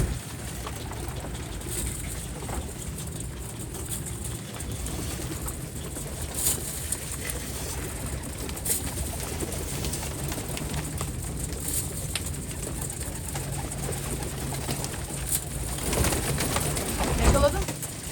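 Soft cooing from a stray pigeon mixed into steady outdoor background noise, with faint voices talking now and then and a louder rustle near the end.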